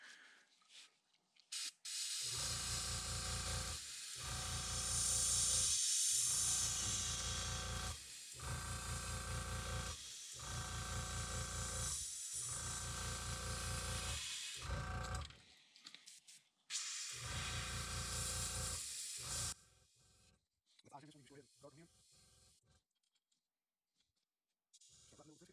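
An airbrush spray painting crankbaits hisses in repeated bursts over roughly fifteen seconds, with short pauses between them; the flow looks uneven and the brush is acting up and in need of a full cleaning, and the hissing is followed by quieter handling noises.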